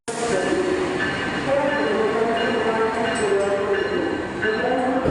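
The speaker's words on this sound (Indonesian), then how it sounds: "Kereta api Manggarai yang berjalan stasiun di Malang." A Manggarai train runs at a station in Malang, its steady mechanical rumble and whine continuous throughout, with possible background chatter.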